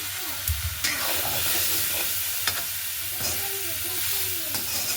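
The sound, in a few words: breadfruit added to frying spices and stirred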